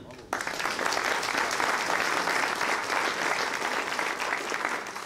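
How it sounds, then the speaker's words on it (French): A crowd at a New Year's greetings ceremony in a French town bursts into steady, loud applause that starts abruptly and holds evenly throughout, with no talk over it. "on peut l'applaudir"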